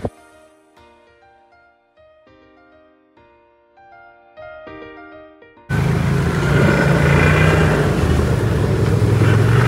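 A Maruti Gypsy fitted with an aftermarket PMC air filter revs loudly and steadily, a rough broadband engine roar that abruptly takes over after several seconds of soft, sparse melodic music.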